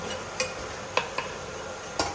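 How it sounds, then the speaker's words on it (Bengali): Masoor dal bori, red lentil dumplings, fry in hot oil with a soft, steady sizzling hiss, broken by a few light clicks of a utensil against the pan. "ঠিক সবগুলো এরকম করেই লাল লাল করে ভেজে নেবো"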